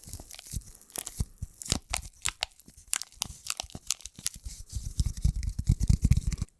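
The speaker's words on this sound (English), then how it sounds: "tap, tap on the crunchy balls" Rapid, close tapping and crunching on Styrofoam balls, a steady stream of crisp clicks that grows heavier and more pronounced toward the end.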